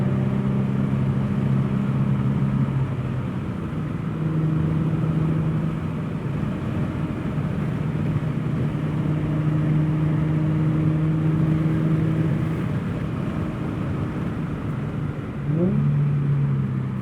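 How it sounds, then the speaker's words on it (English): An Infiniti G37 with a 6-speed manual and Motordyne exhaust drones steadily on a country road, and near the end a downshift brings a quick rev-matched blip and a shift in engine pitch. "Oh, that downshift was butter. That rev match was smooth."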